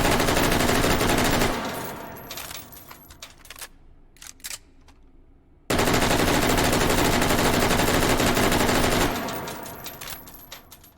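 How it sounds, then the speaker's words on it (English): Assault rifle fire in the VR shooter Hot Dogs, Horseshoes and Hand Grenades: two long, loud, rapid automatic bursts separated by a short pause with a few clicks and mechanical handling noises. "this is my go-to assault rifle."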